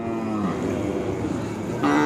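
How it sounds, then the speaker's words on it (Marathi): Cattle low and moo amid a busy Khillar bull and calf market at Pandharpur, with steady crowd noise underneath and a louder, clearer moo near the end. "या बाजारामध्ये लहान वासरे खोंड बैल"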